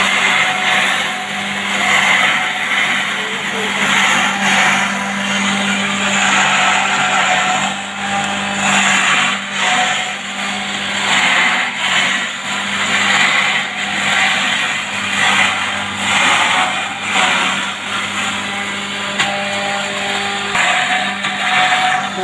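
A flour mill in Parner grinds wheat with a steady, loud mechanical roar and an even hum that runs without pause, alone and close by.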